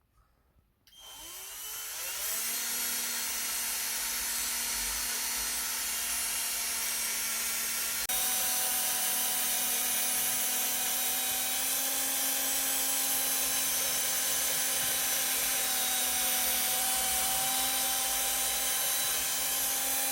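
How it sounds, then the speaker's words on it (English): Power polishing pad working a scratched motorcycle windshield, spinning up after a brief quiet start into a steady, loud, even whirring hum that holds for the rest of the stretch, with no talk. "I'm going to pad it about first before I start polishing."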